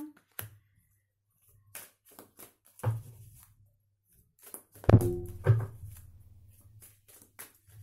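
Oversized tarot cards drawn by hand from the deck in a quiet room, giving several soft thunks and brushing card sounds spaced apart, with a fuller slapping flurry near the middle.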